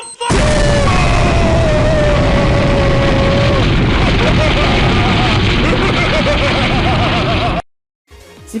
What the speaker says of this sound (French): là, on va avoir une putain de méga explosion